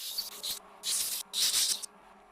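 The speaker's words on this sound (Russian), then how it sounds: "И теперь сверлю отверстие диаметром таким же, как шканты, в моем случае 8 мм." A drill boring an 8 mm dowel hole into an old wooden board for a nightstand, heard as three short bursts of high, hissing cutting noise separated by brief pauses.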